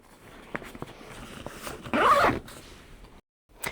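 A zipper is pulled along the full-height front pocket of an Eastpak Tranverz rolling holdall, one quick close rasp after some light fabric handling and taps.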